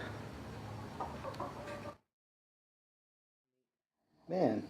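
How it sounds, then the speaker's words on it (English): A flock of chickens settling into a new coop in the dark gives a brief burst of clucking, close and fairly loud, after someone talks and a stretch of silence. "A whole bunch of chickens."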